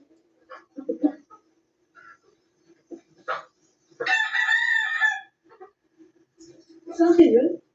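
A rooster crows loudly nearby, a long drawn-out call, with scattered clucks and short calls from chickens before and after.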